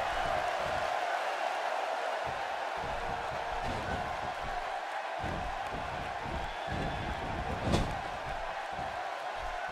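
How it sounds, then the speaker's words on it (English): A roaring arena crowd at a big fighting video game bout, a steady dense wash of cheering and murmur throughout, with one brief sharper slam or burst near the end. "by the sound of this crowd, I think they're getting what they want"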